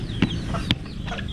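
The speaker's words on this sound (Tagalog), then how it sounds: "Nagkukulit-kulit din yung mga manok ko." Chickens clucking in short bursts, two sharper calls standing out over a steady background of farmyard noise.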